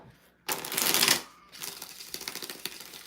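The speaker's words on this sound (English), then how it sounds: "2 more shuffles for Petra." Reading cards shuffled up close, a loud burst of dense riffling flutter, a short pause, then a lighter run of rapid card ticks and rustles.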